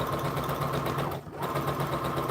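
Home sewing machine stitching steadily around the bottom hem of a doll dress skirt, a continuous close motor whir with a brief dip midway before resuming.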